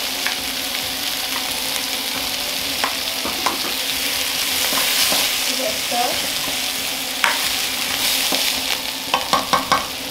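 Spring onions and carrots stir-fried in hot oil in a Chinese takeaway kitchen wok, giving a steady, close sizzle with scraping stirs and a few sharp clanks near the end.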